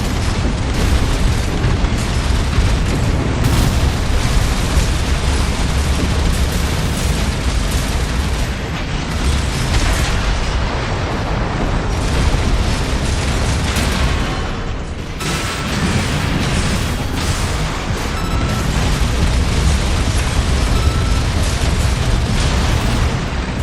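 Sustained, dense roar of twin Gatling guns firing continuously on a training AC in Armored Core, a loud unbroken barrage with a brief dip near the middle before resuming at full intensity.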